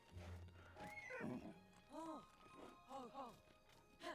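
A horse in Zelda: Tears of the Kingdom lets out several whinnies and snorts in quick succession, close and clear, with a voice speaking over part of it.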